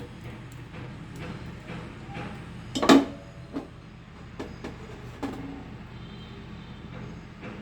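A spoon stirs semai vermicelli with raisins in a cooking pot, sparse soft scrapes and clinks with one louder knock against the metal, no voices.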